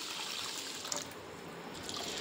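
Water poured onto washed rice and dal for idli batter soaking, a steady soft trickling and splashing that runs close and unbroken for a couple of seconds, with no voices.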